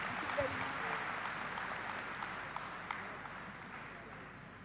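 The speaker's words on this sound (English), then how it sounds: "I'm sure you'd all like to join me in a round of applause for Geetha's presentation" A conference audience at an opening plenary session offers soft, somewhat distant applause after a presentation, a steady low wash of clapping with a voice faintly present.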